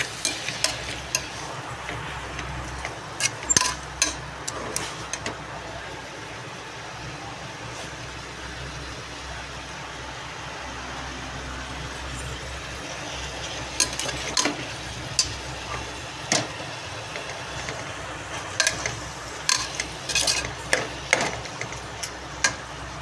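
Ingredients for tomato rice sauté in a pan with a low continuous sizzle, broken by bursts of spoon scrapes and clicks near the start and more toward the end, close and without talk.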